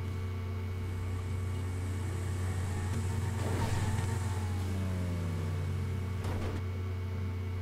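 A Porsche race car in GTA 5 Online, its engine droning steadily at high revs with a couple of brief pitch sweeps from gear changes, no voices.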